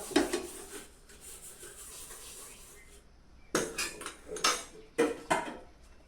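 A few sharp metallic clanks as a pot is set down on a stovetop, close by, separated by stretches of quiet kitchen background.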